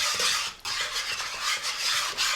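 A spoon scrapes and swirls through a thick cooking sauce in a pan for a spicy cheesy pasta bake, giving a continuous close, wet stirring rasp with a brief pause midway.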